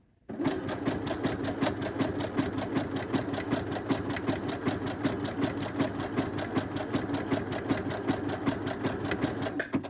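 A Britannia sewing machine runs a satin stitch with a steady, fast, continuous mechanical whir and rhythmic needle clatter. It is close and fairly loud, starts after a brief silence and carries on alone.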